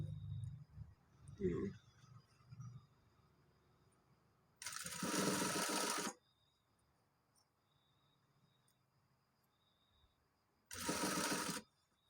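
A sewing machine stitches a buttonhole placket in two loud, steady bursts, the first running about a second and a half and the second shorter, with quiet pauses and faint background noise between them.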